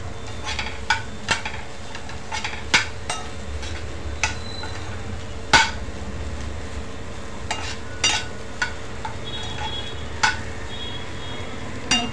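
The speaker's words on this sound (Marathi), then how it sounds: "छान असं मिक्स करणार आहे।" A spoon stirs cheese corn in a pan, making a soft steady sizzle broken by sharp scraping clicks and taps against the metal at irregular intervals.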